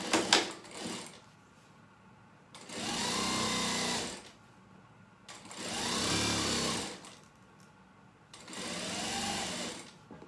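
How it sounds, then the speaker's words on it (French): A sewing machine stitches bias binding onto a duck-bill face mask in three steady bursts of a few seconds each, whirring close and loud, separated by pauses with small handling clicks. "Je couds le biais, l'extrémité."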